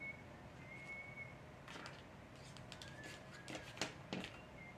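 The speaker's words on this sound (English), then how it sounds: "Somebody's outside whistling." Someone outdoors whistles a few thin, sustained notes, faint and distant, over a steady background hum with occasional soft knocks nearby.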